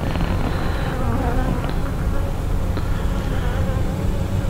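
Honeybees buzzing loudly and continuously around an open brood chamber during a hive inspection, a dense close drone with a few individual bees passing near.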